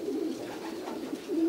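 Pigeons coo steadily at a racing pigeon loft in Żary, Poland, during the birds' return from a race, a close, continuous low cooing with no talk.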